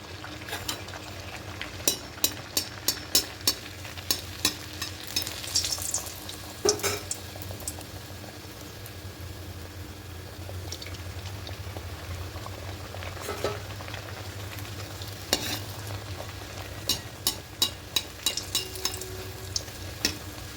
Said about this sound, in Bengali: তেলটা গরম হয়ে গেছে এবার লুচিগুলো দিয়ে দেবো